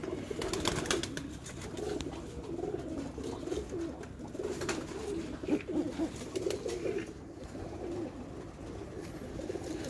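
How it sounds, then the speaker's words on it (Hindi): Pigeons cooing in a loft, several birds producing low, repeated rolling coos close by, with a few soft flutters and knocks in between. "ये वो डब वाले कबूतर हैं जिनमें से वो सलारा है और जो उड़ा था।"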